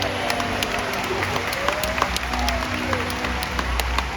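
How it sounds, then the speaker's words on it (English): Crowd applause fills a stadium at a SeaWorld San Antonio orca show, a continuous steady clapping from many spectators with a few sharper claps standing out and faint voices underneath. "Give yourselves a big round of applause."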